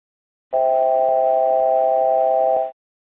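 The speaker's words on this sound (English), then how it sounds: "The alert will also sound when you are deviating from your selected altitude" An ATR aircraft cockpit altitude alert tone, warning of deviation from the selected altitude, sounds once steadily for about two seconds, clear and loud, then stops abruptly.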